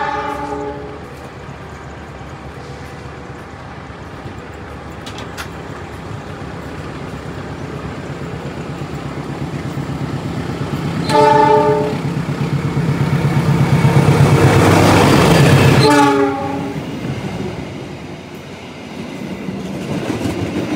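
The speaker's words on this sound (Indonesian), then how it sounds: "Ini tunggu bersilang kereta Wijaya Kusuma ya, dari Ketapang juga, tujuannya ke Cilacap." The Wijaya Kusuma passenger train passes through Grati station in a long, loud rumble that swells and then fades. Two horn blasts sound near the middle and again toward the end.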